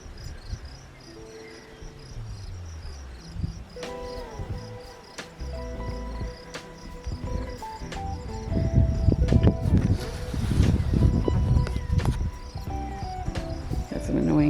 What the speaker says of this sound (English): Some annoying bugs.